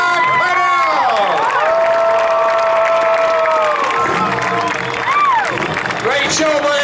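Spectators at a night of truck spectator drag racing at Beech Ridge applaud and cheer in a steady roar, while a loud voice with sliding, singing-like pitch carries over the crowd noise throughout.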